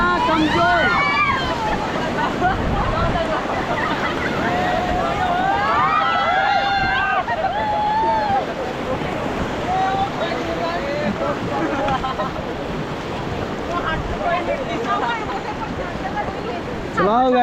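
A raft runs river rapids in Rishikesh, with loud continuous rushing water and wind buffeting the microphone, while people shout and call out over the roar.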